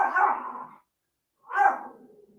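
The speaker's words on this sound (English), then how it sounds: "this damn dog, before you time them out" Dog barking indoors, two loud close barks separated by a brief silence.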